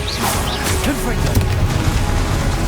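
Confringo fire spell in Hogwarts Legacy, heard as rapid whooshing bursts and crackling impacts over a dense, busy game mix.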